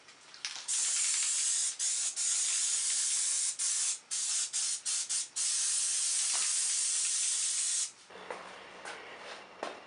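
3M Super Trim adhesive sprays onto carpet in loud, continuous hissing bursts with short pauses between passes, close up, before stopping near the end.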